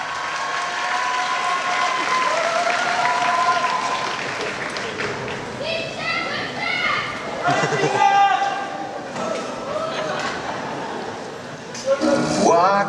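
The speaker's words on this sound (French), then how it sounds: "Je vous demande d'applaudir Tiana de la Princesse et la Grenouille." Audience applause at a Comic Con costume contest, sustained crowd clapping with cheers and a voice speaking over it, moderately loud and steady throughout.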